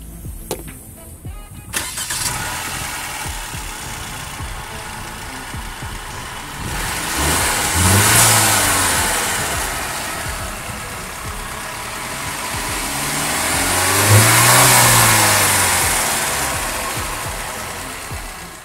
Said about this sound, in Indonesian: Adjust satu bagian kanan, put on the brake, dan kita coba nyalain mesin